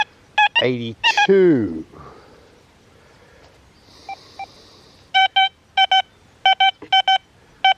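A Deus 2 metal detector with HF2 coil gives short electronic beeping tones in quick bursts over a large gold ring, repeating several times, after a brief spoken word at the start.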